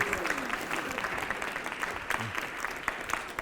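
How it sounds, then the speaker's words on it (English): An audience at a talk by a Vietnam veteran breaks into a sustained round of clapping, dense and even throughout, with a little voice faintly under it. "You can applaud for that."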